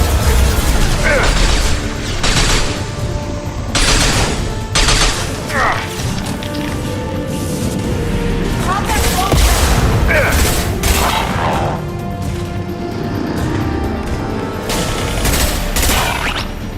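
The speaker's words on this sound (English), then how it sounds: "Taking fire." Gunfire and heavy impacts in the sci-fi shooter Mass Effect 2, with loud repeated bursts and booms over a dense mechanical and music backdrop, combat voices breaking through.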